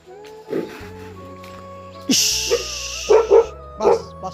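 A Pahadi Bhotia mountain dog barks several times close by, loud irregular woofs with short whimpering notes between them in a rural Himalayan home.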